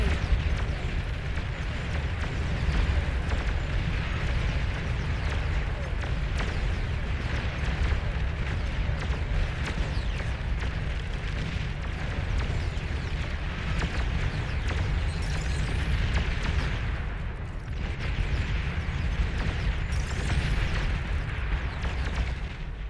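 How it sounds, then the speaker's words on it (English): Game explosions in Beyond All Reason as an enemy commander is destroyed: a continuous dense rumble of booms and blasts that holds loud for over twenty seconds without a break. "Enemy commander destroyed."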